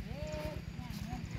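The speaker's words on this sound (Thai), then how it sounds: "อุ๊ยควาย" Water buffalo walking in a rainy rural field, steady hoof thuds in a regular rhythm close by, with a person talking over them.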